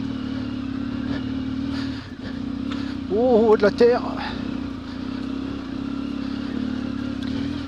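An off-road trail motorcycle climbs a rocky, muddy track in the Ardennes forest, its engine holding a steady drone throughout. A voice speaks briefly over the engine midway through.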